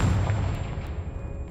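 A heavy explosive blast from the Confringo spell in the game Hogwarts Legacy, a loud booming burst with a deep rumbling body that fades over the following second.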